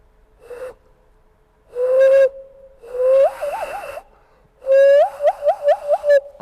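A voice imitates a tropical bird call: several whistled phrases, some sliding upward, others warbling in quick repeated pulses, loud and close with short pauses between them.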